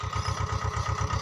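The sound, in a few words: tractor engine idling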